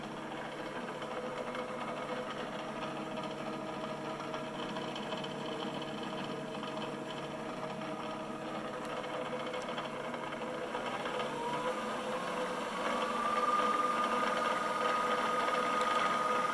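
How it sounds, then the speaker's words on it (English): PM-728V-T milling machine spindle running on its high-speed pulley set, a steady mechanical whir and hum with slight resonance, fairly quiet and continuous throughout, growing a bit louder near the end with a faint high whine. "I can hear that little bit of that resonance there, the clearance between the spindle and the drive pulley, but all in all, fairly quiet."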